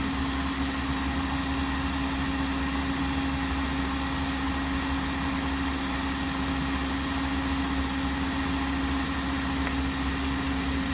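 A battery drill with a weak, partly drained battery, topping out around 1,800 RPM, twists wire into a fused Clapton coil, giving a steady, unbroken motor hum with a constant whine that runs the whole time without pause or talk.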